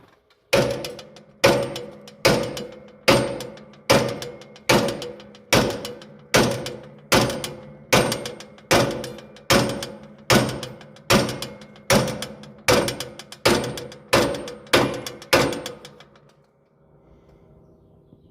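A hammer pounds a stuck part on a White 5100 corn planter being rebuilt, about sixteen loud, evenly spaced metallic thuds roughly one per second, before the blows stop and a quiet room remains.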